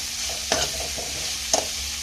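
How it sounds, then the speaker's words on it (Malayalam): Mustard seeds and salt sizzle in a hot pan while a spoon stirs them. There is a steady crackling fry with two distinct scraping strokes, close and alone. "കടുക് ഇട്ട് കൊടുക്കാം, ഉപ്പിട്ട് ഒന്ന് ഇളക്കി"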